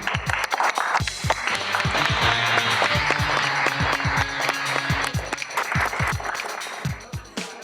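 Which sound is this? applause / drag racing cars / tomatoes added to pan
applause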